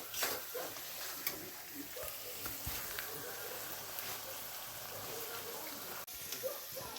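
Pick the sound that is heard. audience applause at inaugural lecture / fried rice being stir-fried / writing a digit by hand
fried rice being stir-fried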